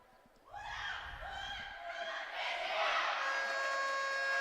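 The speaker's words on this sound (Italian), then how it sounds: "continuate a sentire i tifosi del gruppo Armata Trissinese che incitano la squadra prima dell'inizio delle ostilità" Supporters of the Armata Trissinese group chanting to urge on the Trissino women's roller hockey team before a Serie A match, a crowd's rising sustained shouted chant filling an indoor arena, swelling louder and staying loud to the end.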